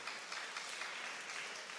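A church congregation applauds the parents during a Sunday morning worship service, a steady, dense wash of clapping held at even level for a short stretch with no voices over it.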